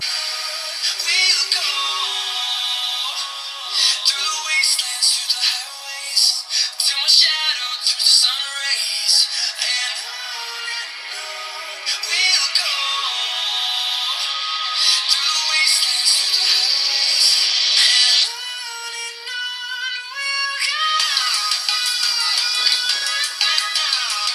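Sample music plays through the bottom-firing mono speaker of a Samsung Galaxy A07 budget phone, a bright, thin, steady melodic stream running continuously at moderate loudness with no talk over it.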